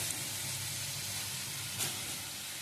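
Ginger-free stems and potatoes frying with turmeric powder in a pan give a steady, close sizzle that holds level throughout, with one brief louder crackle near the end.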